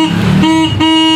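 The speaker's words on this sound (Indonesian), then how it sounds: "itu lemah sekali kalau klaksonnya" Car horn with a weak battery giving a feeble, strained honk, loud and close, sounding in two quick connected bursts with a wavering tone.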